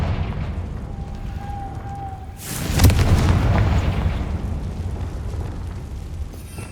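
The Confringo fire spell goes off as a sudden loud blast in the video game Hogwarts Legacy, with a heavy booming impact followed by a rumbling, crackling tail that slowly fades away.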